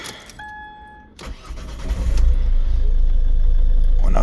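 A car engine cranks and catches after a quiet start, then settles into a loud, steady idle close by, with no talking.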